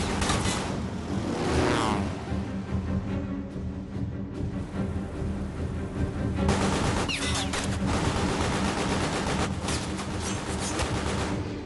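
Sustained aircraft machine-gun fire raking a surfaced U-boat, heard as a dense, continuous roar of rapid bursts and booms, loud and unbroken, with no speech over it.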